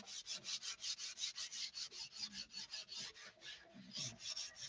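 A flap being hand-sanded with 320-grit sandpaper, steady rapid back-and-forth rasping strokes in an even rhythm, close but quiet, with no voices.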